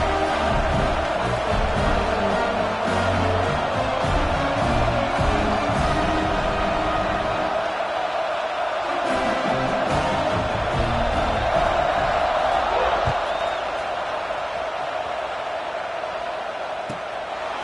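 A large stadium crowd roars steadily before a college football kickoff against Penn State, a dense sustained wall of cheering that swells slightly midway and fades a little toward the end.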